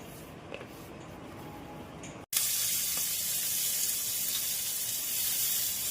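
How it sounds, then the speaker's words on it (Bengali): Mustard seeds go into hot oil for tempering, setting off a sudden, steady hiss and sizzle with faint scattered pops that continues evenly after a quieter start. "সর্ষে ফোড়ন দিয়ে সর্ষেটা ফোড়ন দিলাম"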